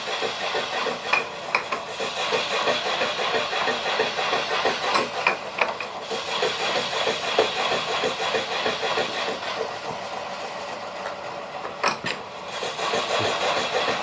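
A machine cuts a 2-stroke aluminium crankcase under repair, giving a constant dense whirring hiss that continues without a break, with faint ticks on top and no voices.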